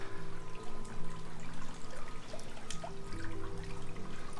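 A residential water feature trickles steadily outside a modern single-story home, a continuous soft pouring and dripping heard close by with no talking.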